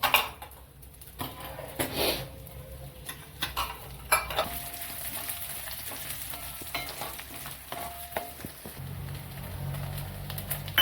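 Fresh grated coconut roasts in a little oil in a pan, giving a steady soft sizzle with frequent scraping stir strokes and light clinks of the spoon against the metal.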